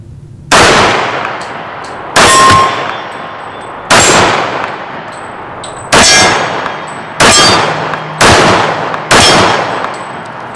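A Kimber Raptor II 1911 pistol fires six loud, evenly spaced shots at a steel target, each crack followed by a ringing metallic clang that decays before the next round.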